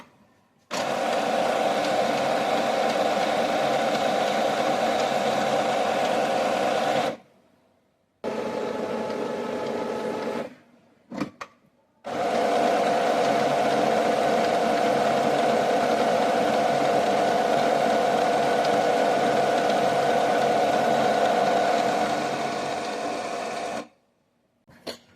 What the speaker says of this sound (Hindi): अब ये करीब 10 मिनट्स लेगा इसके इनिशियलाइजेशन कंप्लीट के लिए।